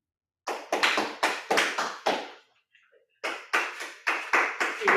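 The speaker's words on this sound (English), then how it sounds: "Keep a round of applause going for Toastmaster Korean Minutes, giving an impromptu speech on pressure." Clapping after an impromptu Toastmasters speech: a few sharp, distinct hand claps in quick succession, a brief pause, then another short run of claps, close and fairly quiet, with no talk.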